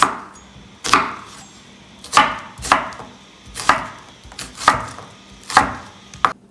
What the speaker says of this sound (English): because this is only making a stock, we just need to roughly chop the onions